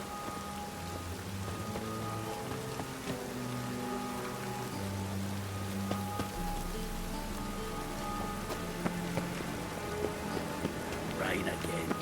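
Rainfall in the video game Witcher 3: Wild Hunt, a steady soft hiss of rain beneath a low musical drone and tones, with occasional light pattering and no talk.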